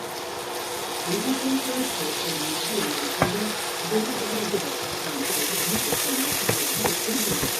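Ginger garlic paste fries in a pan until browned, giving a continuous close sizzle with occasional knocks and scrapes, while a voice talks over parts of it.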